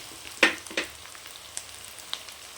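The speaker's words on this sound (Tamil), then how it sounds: "நல்லா இந்த இஞ்சி பூண்டெல்லாம் செவக்க நல்லா வதக்கலாம்" Ginger and garlic sauté in a pan for a rabbit curry, a faint, soft sizzle broken by a few sharp clicks and scrapes of stirring, with no voices.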